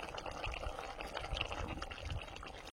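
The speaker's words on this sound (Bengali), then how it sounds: "এবার ঢেলে নেবো গামলিতে" Cooked bottle gourd curry pours and sloshes into a bowl, a steady wet splashing that continues for a few seconds at close range.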